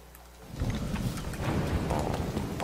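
Storm in Zelda: Tears of the Kingdom, a rumbling thunder roll swelling in after a quiet moment, with heavy rain-like noise spreading across the scene, loud and continuous, no voices.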